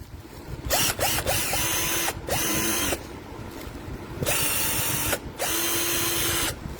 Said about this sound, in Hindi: इसके अंदर लिथियम रिचार्जेबल ड्रिल भी है